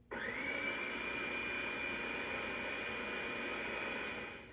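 A food processor purees a full batch of tomato soup, a steady loud whirring motor with a high whine, running continuously before winding down at the end.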